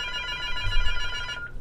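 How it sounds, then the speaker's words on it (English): A telephone rings with a steady electronic tone, clear and fairly close, with a faint low thump underneath midway through. "why does this phone still keep ringing?"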